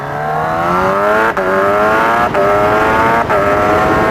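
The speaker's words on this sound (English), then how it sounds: "Now this is an aftermarket exhaust by Brock's Performance, and it sounds absolutely mental." Kawasaki Ninja H2 motorcycle fitted with a Brock's Performance aftermarket exhaust, its engine loud and steady as it pulls through the gears, with brief dips at each quick shift.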